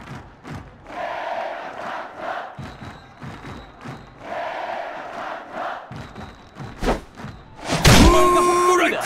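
Stadium crowd cheering in Netmarble Pro Baseball 2022, a steady roar of fans with bursts and swells, punctuated by thuds and a sharp bat crack near the end.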